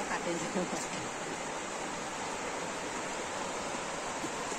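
A waterfall at Pichula in Keonjhar district roars as a steady, broad rush of falling water, continuous and fairly close throughout.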